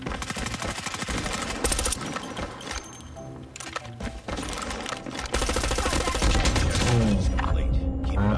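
M16 full-auto gunfire in Call of Duty Mobile, loud rapid bursts of automatic rifle shots in long strings, growing denser and louder toward the end, mixed with game effects and a faint voice.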